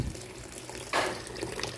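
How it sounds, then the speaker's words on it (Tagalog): Hot water poured into a pot of pork ribs for a nilaga stew, a brief gushing splash that rises suddenly midway and fades into a softer trickle. "add tayo ng mainit na tubig"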